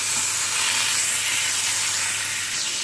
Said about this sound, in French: dans une poêle, je vais mettre à peu près une cuillère à soupe de beurre